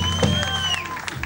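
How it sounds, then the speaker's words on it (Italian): Concert audience clapping and cheering in a live music venue, a loud wash of applause with a few whoops under tonal stage sound and a brief voice. "Un applauso per 25 anni"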